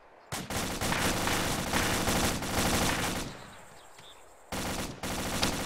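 Bursts of automatic gunfire in a military fireteam setting, a loud rapid rattling stream lasting about three seconds, fading out, then resuming abruptly for another burst.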